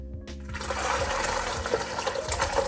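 Liquid for homemade weed wine gushes steadily into a plastic pail after a brief clunk, a continuous splashing pour heard up close.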